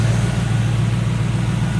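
A 1965 Chevrolet Chevelle Malibu with Edelbrock fuel rails and HEI ignition idles smoothly, a steady low engine rumble with an even throb, close and continuous.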